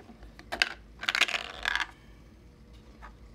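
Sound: rolling Wyrmwood Kickstarter dice

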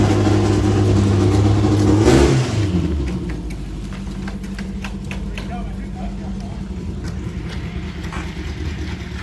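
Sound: 1959 VW 15-window bus engine running

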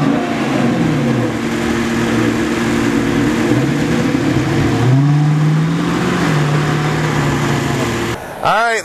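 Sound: 2010 Dodge Challenger R/T Hemi engine

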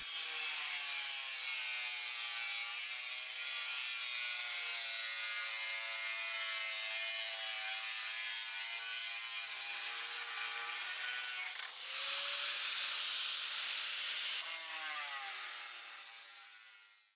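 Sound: cutting metal round parts for a screw conveyor

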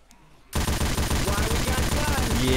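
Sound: heavy machine gun firing in the video game Left 4 Dead 2

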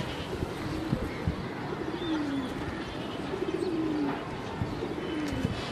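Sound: pigeons returning to the loft

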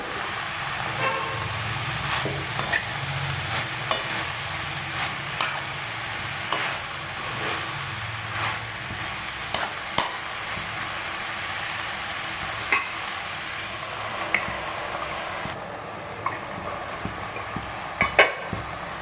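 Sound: stirring green bean upperi frying in a pan

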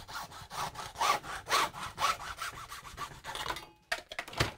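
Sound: old hacksaw cutting plastic pipe

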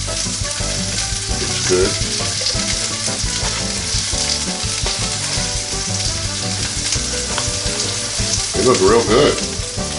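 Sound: pancakes sizzling in a NuWave Medley XL skillet

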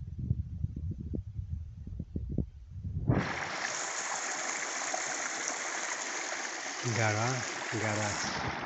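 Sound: mountain spring stream flowing out of rock

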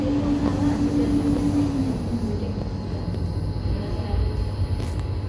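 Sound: LRT Jakarta train switching tracks, momentarily losing power

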